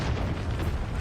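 A Molotov cocktail bursts into flame in Call of Duty, a dense, roaring boom that fills the whole moment with a loud, sustained rumbling wash and no talk over it.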